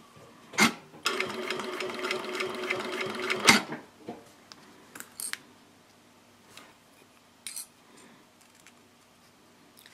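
A domestic sewing machine stitches a zipper onto a fabric ID wallet in a steady burst of fast rhythmic needle strokes lasting a few seconds, followed by quiet handling clicks and rustles.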